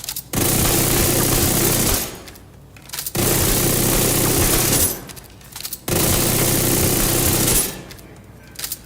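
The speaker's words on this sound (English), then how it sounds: "look at how fast that thing shoots" Three loud, sustained bursts of rapid automatic gunfire from a weapon in the video game The Division 2, each lasting about two seconds with short pauses between them.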